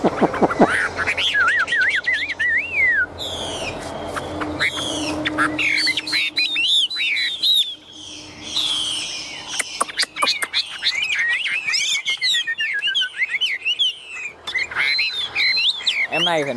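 A tame hwamei, the Chinese melodious laughingthrush, sings loudly and close by in long runs of rich whistled phrases, rapid trills and sweeping notes, with brief pauses between bursts.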